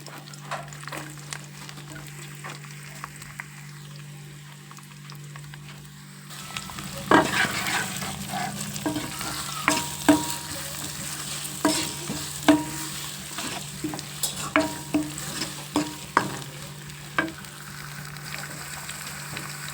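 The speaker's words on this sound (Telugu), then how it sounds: "ఇప్పుడు మనం పచ్చిమిరపకాయలు వేసుకోవచ్చు తర్వాత కరివేపాకు తర్వాత ఉల్లిపాయలు" Green chillies, curry leaves and onions hit hot oil for a potato curry, bringing a sudden burst of sizzle that stays loud and steady, punctuated by repeated close spatula taps and scrapes on the pan over a low constant hum.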